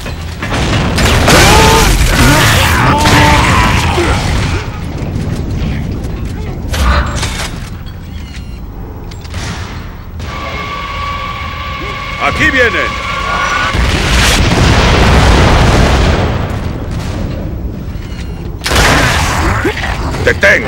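Grenade blasts and heavy booming combat in Gears of War 3, loud and dense, with repeated bursts over a shooting firefight. Voices shout over the battle noise.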